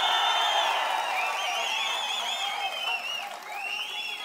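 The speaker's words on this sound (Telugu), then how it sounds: "గట్టిగా చప్పట్లు కూడా చెప్పండి" A crowd at a TDP Prajagalam political rally in Vemuru, addressed by Chandrababu Naidu, sends up a loud, continuous roar of cheering and clapping, with shrill whistles rising and falling over it.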